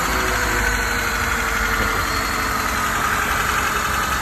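A used car's engine idles steadily for several seconds, a loud, even mechanical drone with a faint knocking texture and no voices.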